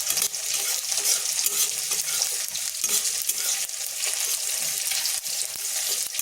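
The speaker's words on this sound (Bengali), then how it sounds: "এই দেখুন সরষেগুলো ফুটফুট করে উঠেছে" Mustard seeds splutter and crackle in a hot wok, a dense, steady popping sizzle with faint scraping, heard alone without speech.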